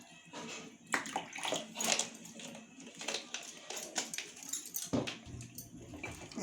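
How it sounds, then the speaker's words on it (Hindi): Water poured into a pan while making mango ice cream at home, after sugar has been melted in it; uneven splashing and trickling with clattery bursts, fairly close, no talking. "एबे आमे गिना रे टिके पानी नबा।"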